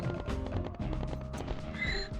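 Donkey in the video game Gex 3: Deep Cover Gecko: quick hoof clip-clops and animal braying, fairly quiet under game music, with a short high tonal call near the end.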